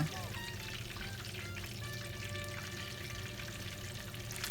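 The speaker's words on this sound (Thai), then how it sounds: "แล้วก็ค่อยๆวิดน้ำมันขึ้นไปที่ตัวปลานะคะ ทำแบบนี้ไปเรื่อยๆ ระหว่างที่เราทอดปลาค่ะ" Turmeric-coated fish frying in hot oil in a pan, with oil spooned over it again and again, giving a steady close sizzle and bubbling with faint scraping, under a voice.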